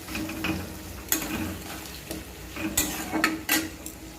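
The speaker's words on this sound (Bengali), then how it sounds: "মশলাটা কষিয়ে নিচ্ছি।" A spatula scrapes and clanks against a pan while a spice paste of onion, ginger, garlic and tomato is stir-fried, irregular metallic strikes over a low sizzle, close and moderately loud.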